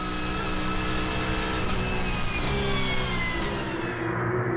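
Fluorescent-yellow Porsche race cars racing at the Val de Vienne circuit: a loud, continuous high engine howl under load, its pitch sliding slowly downward as the cars pass close by.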